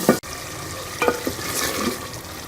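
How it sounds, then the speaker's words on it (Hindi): Spices roast in a hot pan for dhaba-style mash daal (urad dal), a steady close sizzle broken by a few stirring scrapes and utensil knocks, short and without voices. "सारे मसालों को डाल मसाले को जो है अच्छी तरह से भून लेंगे।"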